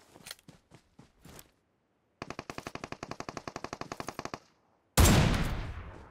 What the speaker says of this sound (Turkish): Adam da sıkıyor zaten, görmüş olduğunuz gibi.